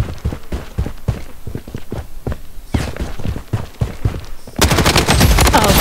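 Rapid gunfire from a weak gun in Blood Strike, fast close bursts of sharp shots with brief gaps, then a denser and louder stretch of firing at the end.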